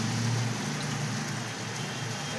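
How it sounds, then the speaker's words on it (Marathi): Washed, chopped bitter gourd mixed with homemade chutney, turmeric and salt hitting a hot kadhai, giving a steady, broad frying hiss throughout with a low hum underneath; no one talks. "टाकत आहे कढईमध्ये"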